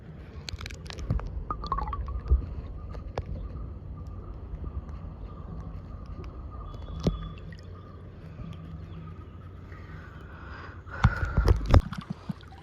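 Clay Ganesh idol lowered into waist-deep water during immersion, with soft sloshes, drips and gurgles close by, scattered knocks, and a louder splashing burst near the end.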